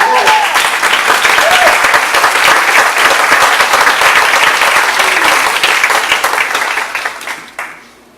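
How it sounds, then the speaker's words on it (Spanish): A church congregation applauds during a pastor's sermon, loud, full clapping from many people with a brief voice at the start, sustained for several seconds before tapering off and stopping abruptly near the end. "Aplaudamos al Señor."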